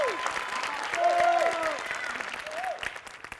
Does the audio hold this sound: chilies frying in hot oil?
no